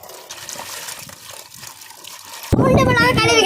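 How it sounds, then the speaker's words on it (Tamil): Cut green beans being rinsed in water in a home kitchen, a loud splashing, running-water gush starting partway through after quieter background clatter and faint talk. "வெட்டி வச்ச பீன்ஸு கழுவிக்கலாம்."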